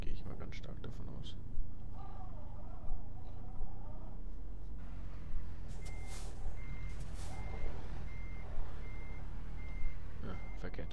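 Truck reversing beeps in American Truck Simulator, a steady train of evenly spaced beeps over low engine rumble, clear and regular, with people talking over parts of it.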